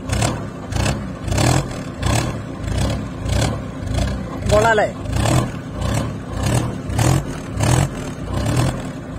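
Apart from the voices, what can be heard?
modified 1999 Contessa exhaust note while revving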